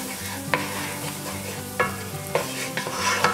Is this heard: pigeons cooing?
no